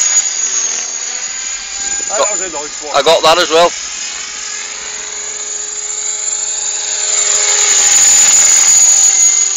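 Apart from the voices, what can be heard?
T-Rex 500 radio-controlled helicopter with stripped gear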